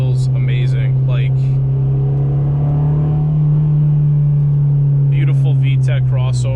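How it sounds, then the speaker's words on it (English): A 2007 Honda Civic Si with about 200,000 miles revs hard through its VTEC crossover, a loud steady engine drone heard from inside the car, with someone talking over it at the start and end. "beautiful VTEC crossover."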